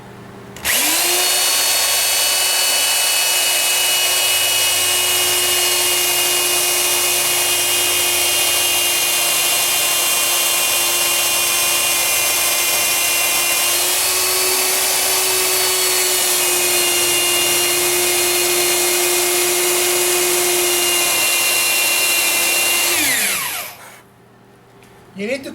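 A Forstner bit drills steadily into a wood workpiece while a simple tape organizer made from dowels is built, giving a loud, continuous power-drill whine for over twenty seconds before it winds down and stops.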